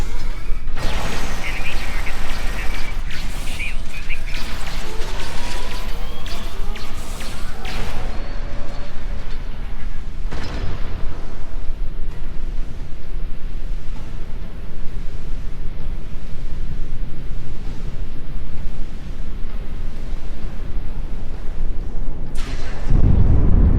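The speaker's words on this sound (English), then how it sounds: "That was an explosion of sufficient magnitude to cause a breach." Explosion causing a hull breach in the Star Trek Online game, a dense rumbling blast with crashing debris, followed by sustained loud roaring and a closing thump, no talk over it.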